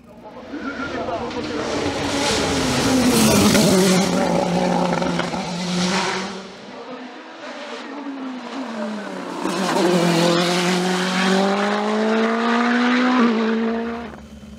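A Norma M20 FC race car with a 1.7-litre turbo engine tears past on a hillclimb course, loud revving rising and falling through gear changes and two passes, with tyre squeal and a commentator talking over it.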